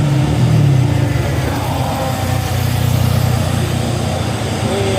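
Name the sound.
Hino and Fuso trucks driving on hill road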